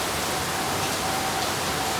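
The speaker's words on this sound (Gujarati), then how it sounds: "ફેમિલી વરસાદ બહાર બહુ જોરદારનો આવે છે અત્યારે" Heavy rain pouring down outside a home, a dense, even rushing hiss that holds steady throughout without a break, loud and close with no voices.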